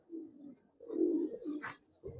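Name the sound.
China khaki pigeons cooing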